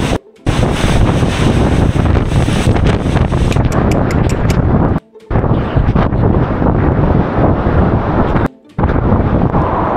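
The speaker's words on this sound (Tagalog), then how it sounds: "yung ulan at hangin na napakalakas" Powerful hurricane wind roars and buffets the microphone in a loud, continuous rush with driving rain, broken only by two brief gaps.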